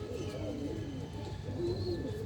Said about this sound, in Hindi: ये मेरे हाथ में कबूतर देख रहे हैं आप